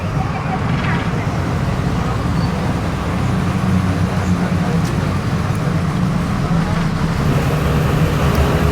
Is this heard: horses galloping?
no